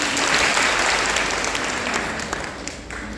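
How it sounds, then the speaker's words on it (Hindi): An audience at a gathering claps to welcome a speaker to the stage, steady close applause that gradually thins and softens toward the end. "जोरदार तालियां बजाकर स्वागत."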